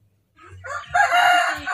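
A KUB chicken rooster on a poultry farm crows once, loud and close, a rising call that holds steady and fills most of the short span, with a faint low cluck before it.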